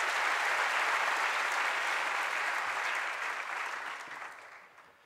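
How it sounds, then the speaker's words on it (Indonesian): Warm applause from a student audience in a school auditorium, a broad wash of many hands clapping that holds steady before gradually tapering off and fading near the end. "Tepuk tangan untuk kita semuanya."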